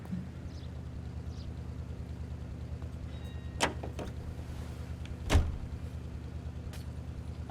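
A Packard Clipper 8 car in the game L.A. Noire idles with a low, steady engine hum. Two sharp clunks, like a door or mechanism, punctuate it about two seconds apart, with no talking.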